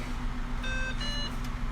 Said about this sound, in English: so it'll beep